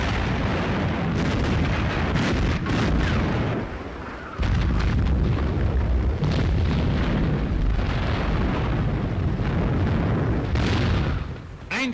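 Heavy artillery shells from enemy guns burst near Italian battleships at sea in 1942, a loud continuous roar of booms and blasts with one brief lull partway through. A voice may speak faintly underneath.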